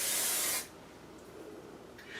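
A short burst of hairspray from an aerosol can onto the top and front of the hair, a loud airy hiss for about half a second followed by quiet room tone and faint rustling.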